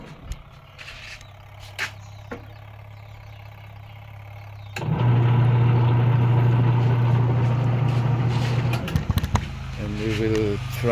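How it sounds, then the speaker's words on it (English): A washing machine's wash motor running, a steady hum that rises sharply in level midway and holds, with a few clicks and knocks on top. "The wash motor is now working."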